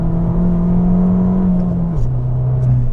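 A 2020 Abarth 695 70° Anniversario sports car engine (180 PS) droning steadily up close, its pitch holding and then dropping as the revs fall, loud and continuous.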